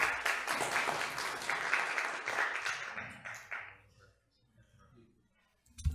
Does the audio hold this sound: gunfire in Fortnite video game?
no